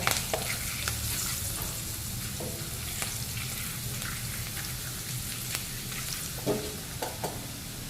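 Garlic and green chillies fry in oil in a pot as a base for pulao, giving a continuous, even sizzle with occasional sharper crackles and stirring clicks, close and moderately loud.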